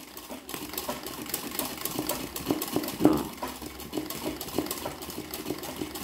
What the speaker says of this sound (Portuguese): Agora eu vou fazer o contorno, ó, só com ponto costura.